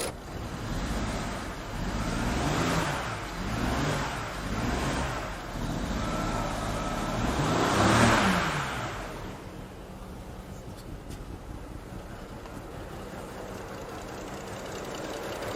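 A BMW 535i E61 wagon engine runs rough with misfires, its uneven idle surging and sagging in repeated waves, swelling loudest near the middle before settling into a fainter, stumbling drone, with no talking.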